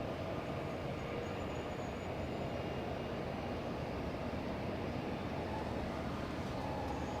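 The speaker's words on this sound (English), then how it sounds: "now we have a little E-175 landing up on the runway" An Embraer E-175 airliner landing at Los Angeles International Airport, heard as a steady, broad engine roar that stays even throughout, distant and unbroken, with no voices.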